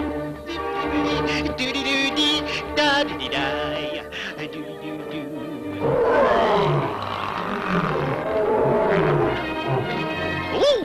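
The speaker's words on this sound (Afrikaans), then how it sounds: "die enigste leeu wat ek ken wat so diep kan brul" A lion roars deeply and powerfully, a long series of loud, rumbling calls that swell and fade, grunting pulses building into a heavy, resonant roar close by with no talk over it.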